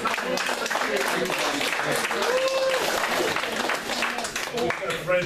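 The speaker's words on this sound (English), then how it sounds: "Everyone, a round of applause for Senator Golden." Audience applause for a state senator at a Brooklyn Tea Party gathering, dense and steady throughout, with voices talking over the clapping.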